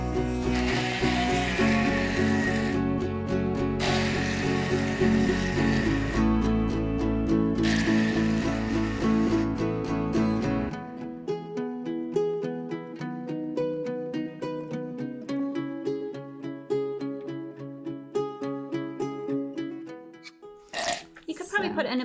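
Herb pesto with seeds and nuts whizzed in a food processor: loud grinding motor bursts at the start, then a rattling, choppy whir of blades through the mixture, with a voice talking over it.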